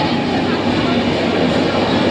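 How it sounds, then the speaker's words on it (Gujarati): A train arrives at a station with a loud, steady rumble of rolling stock filling the whole stretch. Faint voices may sit beneath it. "જો ટ્રેન આવી ગયેલી છે અને જો મસ્ત મસ્ત ટ્રેન આવી છે"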